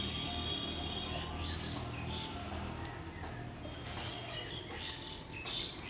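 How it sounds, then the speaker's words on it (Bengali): Birds chirp and call around a rooftop on a calm, cloudy morning, scattered high tweets drifting over a steady low background hum, moderately faint and without talk. "আশপাশে পাখিগুলো ডাকছে"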